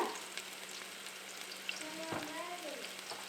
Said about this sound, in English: my onion here is still frying